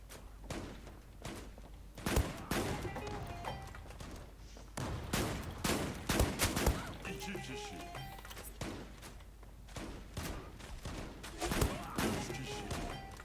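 Rapid bursts of M4 Super 90 shotgun fire in the Zula online shooter, a dense run of sharp blasts and thuds during a heavy firefight, loud and repeated over a constant bed of game noise and some talk.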